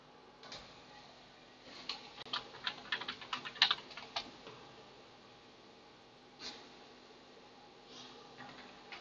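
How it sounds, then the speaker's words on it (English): Keys on a computer keyboard are pressed in a quick cluster of light clicks at a Mac Pro 1,1 during a graphics card test, then a few isolated taps follow, faint and close. "I'm pressing the volume buttons on the keyboard."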